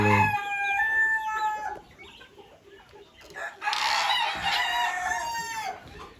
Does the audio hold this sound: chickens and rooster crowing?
yes